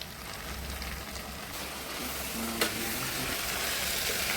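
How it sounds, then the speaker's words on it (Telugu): Carrot, potato and tomato with curry leaves for a wheat rava upma being stirred in a pan, heard as a steady soft sizzle and hiss with faint scraping, close and even, and one small clink partway through, with no talking. "ఈ మొత్తాన్ని ఇప్పుడు నీట్గా ఒకసారి కలుపుకుందాం"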